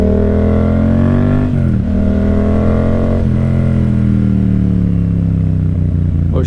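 A Yamaha MT-07 motorcycle engine revving hard and downshifting, its loud close growl rising and dropping through a run of gear changes, with steady wind rush underneath.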